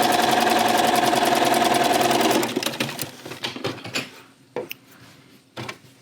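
A home sewing machine stitches pieced flower block fabric with a fast, even mechanical chatter for a couple of seconds, then stops, leaving scattered clicks and soft handling sounds of cloth and parts.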